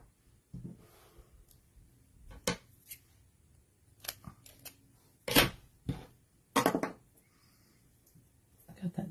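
Cutting a piece from a festive tags kit to 8 1/4 inches, likely with a paper trimmer: a few sharp close cuts and clicks spaced out over quiet stretches, with faint talking in between.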